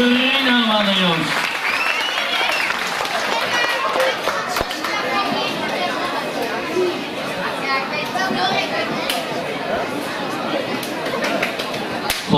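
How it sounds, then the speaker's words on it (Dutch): Applause from an audience for a dancer named Dorina at a local dance show, a busy wash of clapping mixed with crowd chatter and children's voices, after a brief spoken announcement at the start. "Een applaus voor Dorina, mannen, jongens."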